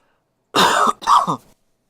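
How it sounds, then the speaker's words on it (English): A person with a congested chest gives two close, harsh coughs, loud and near, with silence before and after. "Apologize about my coughing if my chest"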